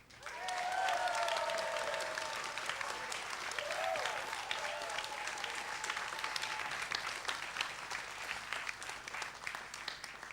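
An audience claps for a one-man team measured on a clapometer at a pitch competition. The applause is fairly distant and sustained for about ten seconds and tapers slightly, with faint voices and whoops underneath.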